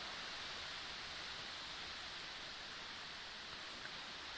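Steady broadband rush of flowing water in Minecraft, an even, continuous wash like a nearby waterfall or stream, loud and unbroken with no voices.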